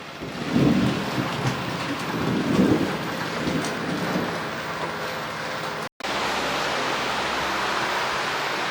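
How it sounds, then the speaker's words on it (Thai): Heavy rain pours down steadily in a rural Thai-Lao home setting, a dense, loud continuous wash with low rumbles early on and a brief cut near the end, no voices. "ฝนตกลงมาอย่างแห้งเลย"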